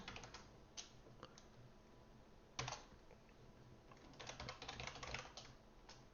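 Keys clacking on a computer keyboard in irregular bursts, with a few louder single strikes and a busier run of quick taps toward the end, close and fairly quiet with no voices.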